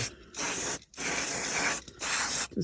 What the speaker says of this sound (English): I'm going to clean the area just around them a bit, just spray. This is like WD-40